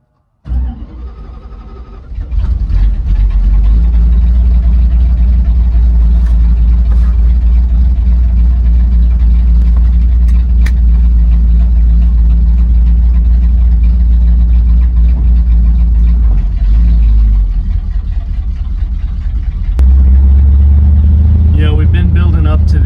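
A 1970 Dodge Challenger, back on the road after 16 years off the highway, starts up and drives off with a loud, steady low engine rumble lasting throughout. The engine surges again near the end.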